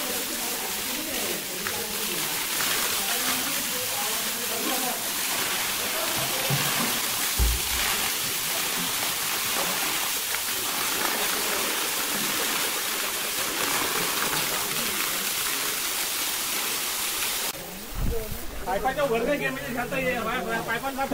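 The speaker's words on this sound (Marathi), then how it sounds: "पाण्याच्या प्रेशरने क्लीन होते" A pressurised water jet cleaning a village well after heavy rain makes a loud, continuous broadband hiss and rush of spraying water, briefly interrupted near the end, with people talking over it.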